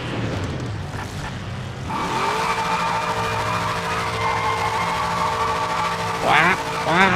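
Tyres squealing as they warm up in a racing video game, a sustained tonal screech with engine drone rising after a couple of seconds and holding steady, with a brief sharper burst near the end.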